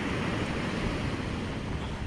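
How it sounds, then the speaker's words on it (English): Modest ocean waves wash onto a surf-fishing beach in a steady, soft rushing wash with a faint rumble and some wind, fairly distant and quiet, without voices. "The waves aren't crazy big like they normally are here."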